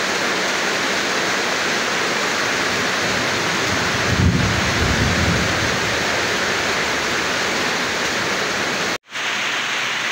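Heavy rain pouring down on a house during a storm, with the roof leaking: dense, loud continuous roar of rainfall, a brief low rumble midway and a sudden cut near the end, no speech.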